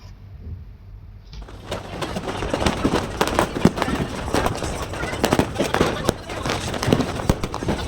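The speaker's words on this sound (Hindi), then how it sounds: "ये सामने वाले भी बहुत बम फोड़ते हैं" Neighbours' firecrackers going off outdoors during Independence Day celebrations, a dense stream of sharp crackling pops and bangs at middle distance, loud and continuous after a quieter start, with background voices.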